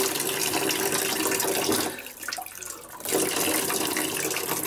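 Hot water runs steadily from a bathroom tap into a sink before shaving, a loud, close, broadband rush that dips briefly in the middle as the flow is interrupted, then resumes at full strength.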